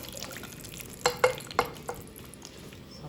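A pinch of flour dropped into hot oil, for testing the heat before adding chicken skin, gives a few quick bursts of sizzling spatter over a quiet background, close by with no voices.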